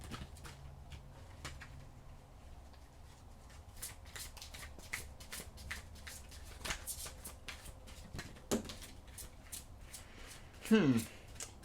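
Tarot cards are shuffled near the microphone in repeated quick riffling bursts and soft slaps, with a brief louder flurry toward the end, against a quiet indoor background.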